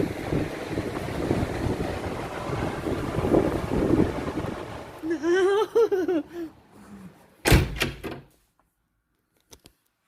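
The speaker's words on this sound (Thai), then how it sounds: "พามาฟังเสียงลมเสียงทะเลนะคะ" Strong wind buffets the microphone over crashing sea waves on a cold Swedish coast, steady and loud, then a voice speaks briefly before a sharp gust and sudden near-silence.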